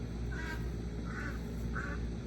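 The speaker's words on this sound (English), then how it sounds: "there goes them ducks. I said, nope. They're gonna be noisy" Ducks at an outdoor off-grid homestead give three distinct quacks, evenly spaced and moderately close, over a constant low background hum.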